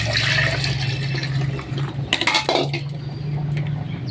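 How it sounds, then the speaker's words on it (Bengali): Water pours into a cooking pot over chili-paste-marinated meat for nihari, a steady splashing gush with a few light metallic clinks against the pot. "দিয়ে দেবো এখন পরিমাণ মতো পানি"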